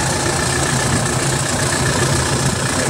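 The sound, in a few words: Toyota Hi Ace engine running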